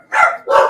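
A dog gives two loud, close barks in quick succession, each short and sharp with a brief gap between them, and no one speaks.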